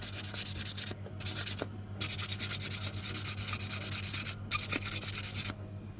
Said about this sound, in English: you can run some sandpaper over it if you like, make it a little bit cleaner.